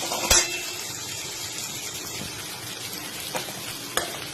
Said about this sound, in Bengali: এবার আমি এর মধ্যে একটা একটা করে মশলাগুলো দিয়ে দেব।